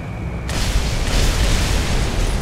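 Heavy 1,000-pound bombs exploding during an air raid in War Thunder: an abrupt, loud, rumbling blast erupts after a brief moment and roars on without a break to the end.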